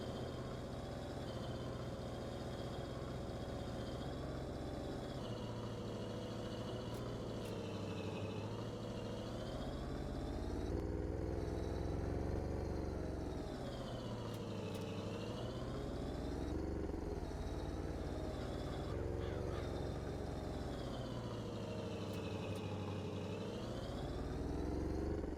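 A twin turbo truck engine runs steadily in Farming Simulator 22, a continuous loud drone with rising and falling pitch as it revs and eases off, with no talk over it.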